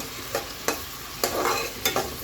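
Chopped onion frying in a pan as the base for chicken chilli, with a steady close sizzle broken by several sharp scraping stirs at roughly even intervals.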